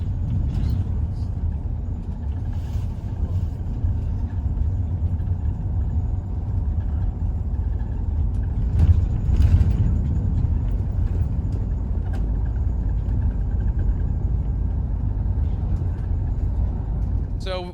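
Steady low engine rumble fills the interior of a moving bus, with a faint whoosh and brief knocks midway and no clear voices on top.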